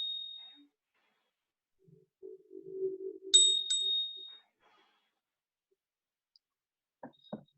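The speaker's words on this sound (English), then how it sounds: "I'm just going to ring this bell just to clear the energy just a little." A meditation bell is struck once, giving a bright ringing tone that sustains and fades in a quiet room, with a soft low tap sound just before and a faint knock afterward.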